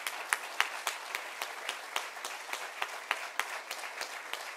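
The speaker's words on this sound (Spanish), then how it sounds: "Así que yo creo que también merece un fuerte aplauso" Audience applause at the opening ceremony of the Batey Delfín del Yagüez archaeological park, a fairly faint, steady patter of clapping with scattered louder individual claps over nearly five seconds.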